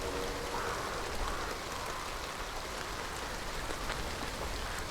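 Steady, dense rain falling in the video game Hunt: Showdown, an even hiss of drops pattering on surfaces that holds at a constant level throughout with no voices.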